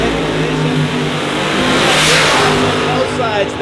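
A nitro-burning fuel altered drag race car roars loud and continuous at the strip, its engine note rising, with a crowd or announcer voice faintly mixed in.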